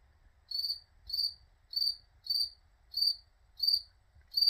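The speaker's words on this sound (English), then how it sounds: "Holy hell, can you hear the cricket going off?" A single cricket chirps repeatedly, evenly spaced pulsing trills about twice a second, clear and close over near silence.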